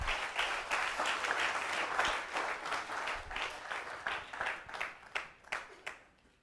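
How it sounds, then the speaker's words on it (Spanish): A church congregation applauds during a sermon, a fairly faint but dense burst of clapping that thins into scattered individual claps as it fades out. "Denle un aplauso al rey."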